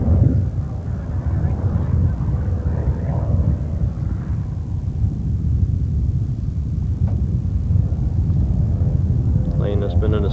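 A crop-spraying airplane, one of two run by a spraying business applying Roundup against quackgrass, drones low over a spring farm field in a steady, loud engine rumble lasting throughout.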